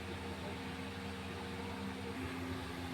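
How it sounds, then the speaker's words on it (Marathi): A mixer grinder grinds a ginger-garlic masala paste with a little water for a fish curry, a steady, dense electric motor whir with low hum, continuous and close throughout, with no talking. "मसाला ग्राइंड करून घ्यायचा।"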